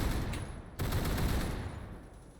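An LMG firing in the Roblox shooter Phantom Forces, a loud dense burst of rapid automatic gunfire with a brief break before continuing and trailing off.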